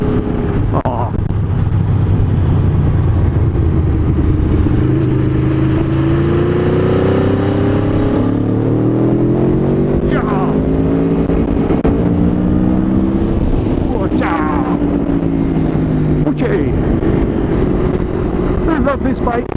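A 2014 Aprilia Tuono V4R engine revs loudly while riding, pitch rising and falling through gear changes, close and continuous under wind noise.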